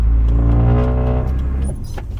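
A car engine, a Thai car fitted with a newly rebuilt pump, revs hard and loud close by in one continuous pull through the gears, with steady deep harmonics that fade slightly toward the end.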